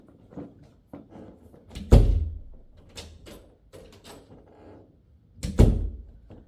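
A house's bathroom door is opened and closed, with knocking thumps and a loud latching thunk near the middle. A second firm shut comes toward the end, and lighter handle and hinge movements fall between them.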